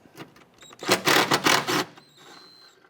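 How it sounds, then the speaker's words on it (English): A 14mm socket ratchet loosens a nut on a 2009-2015 Honda Pilot during shock absorber work, giving a close burst of rapid ratcheting clicks lasting about a second amid lighter metallic handling noises. "I'm going to go ahead and use our 14mm socket here and loosen this nut."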